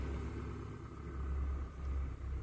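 A car engine at idle while its headlights are switched on, a low steady rumble with slight swells in loudness, close and without speech.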